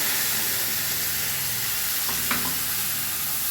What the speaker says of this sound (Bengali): ফোড়নটা এবার ভেজে নেব এবারে বাটা মশলাটা আমি দিয়ে দিলাম